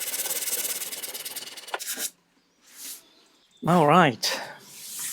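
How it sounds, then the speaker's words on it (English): Hand sanding over glued cracks in the veneer of a Victorian sideboard, a steady close rasping rub for about two seconds before it stops, followed by a brief spoken remark. "I'm just gonna put some glue and just sand over it to close them"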